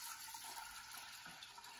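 Liquid, strained juice from a roasted pumpkin for spiced pumpkin tea, poured steadily into a cooking pot, a soft continuous splashing stream close by with no talking.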